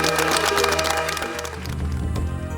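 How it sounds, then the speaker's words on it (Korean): Sustained clapping from an audience, steady and dense throughout, with music playing underneath. "박수 주십시오"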